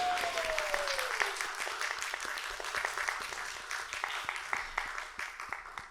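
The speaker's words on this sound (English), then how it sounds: "can you help me give a big round of applause to ourselves?" Studio audience applauding throughout, a dense steady clatter of many hands held at an even level for six seconds, with no talk over it.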